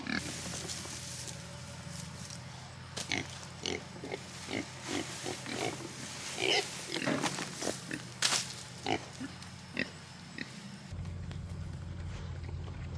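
Pigs on a small homestead grunt and snuffle while eating freshly pulled garden weeds, short low grunts in an uneven rhythm, fairly close, with rustling and a steady outdoor hum behind.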